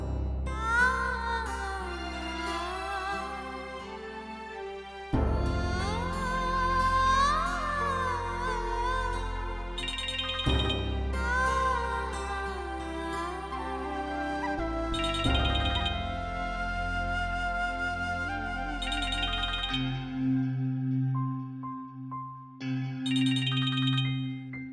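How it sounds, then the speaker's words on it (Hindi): A phone ringtone plays as a call is placed in a Hindi TV serial scene, a loud looping electronic melody repeating in phrases for about twenty seconds before giving way to sparse ringing tones, with no speech. "मुझे अर्जुन को एक बार फोन कर लेना चाहिए"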